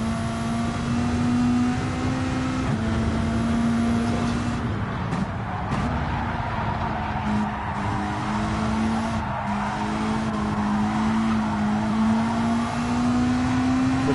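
A Supra race car engine in Gran Turismo 7 drones at a steady, loud pitch with rising and falling revs, brief tire squeal and other cars around it.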